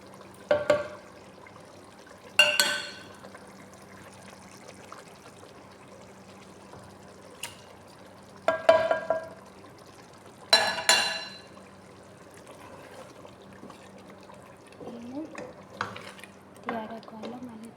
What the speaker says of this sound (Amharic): አሁን ቱና እጨምራለሁ።